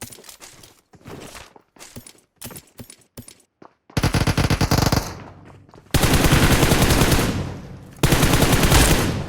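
M4 rifle fire in the PUBG Mobile battle game: a few short single shots early on, then loud, close sustained automatic bursts in three long volleys with brief gaps between.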